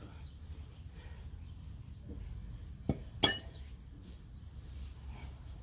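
A caliper bracket on an Acura TL comes off during a rotor and pad job, with one bright metallic clink and a duller knock just before it. Both stand out over a quiet, steady background hum.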